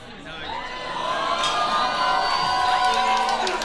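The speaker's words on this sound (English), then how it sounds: "The crowd is cheering." Studio audience cheering and whooping at a dating show, a loud, sustained crowd roar that swells over a few seconds with shouts and high-pitched voices mixed in.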